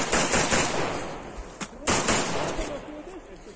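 Rifle gunfire in war footage rings out as rapid bursts of loud, sharp shots with reverberant cracks, including one isolated heavy report, and a voice may be mixed in.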